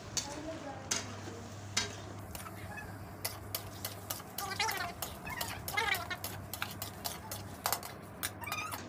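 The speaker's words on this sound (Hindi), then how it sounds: "अब इसको अभी मिक्स करते हैं।" A spoon scrapes and clatters through desi chicken masala in a pot over a clay stove, giving irregular clinks over a soft sizzle with a low steady hum beneath.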